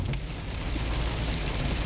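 Heavy rain pours down in a dense, steady hiss that drums on surfaces, with a low rumble underneath. The downpour is constant and fills the whole scene without speech.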